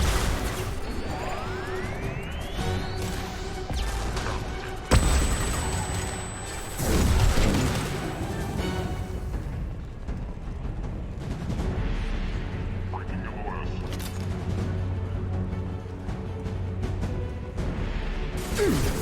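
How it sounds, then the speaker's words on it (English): Flashbang grenades burst in a Mass Effect 2 firefight, a sharp bang around the midpoint followed by ringing tones, rumbling gunfire and mechanical clatter in a busy, moderately loud combat mix. "Watch out, flashbangs!"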